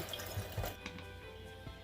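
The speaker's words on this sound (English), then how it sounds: "That's what I'm doing right now, is rinsing my spatula." Spatula rinsed under a running kitchen tap, a faint steady trickle of water with a few soft drips and clinks, heard alone with no talk.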